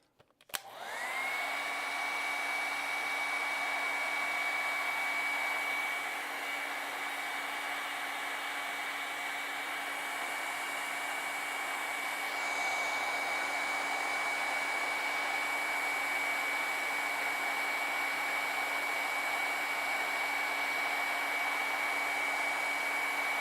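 A hair dryer blows on wet acrylic paint during a painting session, a steady close whine and airy whoosh that starts abruptly and holds constant, with a slight shift partway through.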